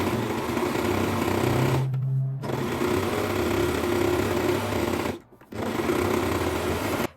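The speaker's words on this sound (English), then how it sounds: "Finish the seams with an overlocker or zigzag stitch." Sewing machine stitching the side seams of a kimono jacket, running steadily and loud in long bursts, with two brief pauses between runs.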